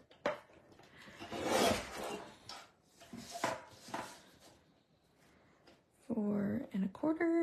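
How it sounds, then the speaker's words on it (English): A piece of card paper is trimmed with a few rough scraping and rubbing strokes, some close bursts and some softer, and someone talks over part of it. "I will start by trimming this so that it is as perfect as possible"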